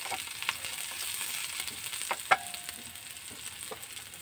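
Onions frying in a very hot kawali give a soft, continuous sizzle with occasional stirring scrapes and one sharp metallic clink, close but fairly quiet, with no voices.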